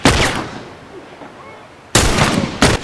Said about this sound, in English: Shot that guy in the armor, so we didn't take him out.